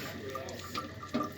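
Water from a malfunctioning drinking fountain runs and splutters in a short burst, with trickling and dripping and a sharper gurgle near the end.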